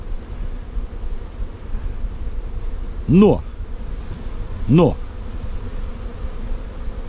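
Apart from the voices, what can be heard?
honey bees buzzing in an apiary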